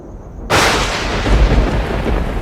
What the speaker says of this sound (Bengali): হঠাৎই বাইরে প্রবল জোরে বাজ পড়ল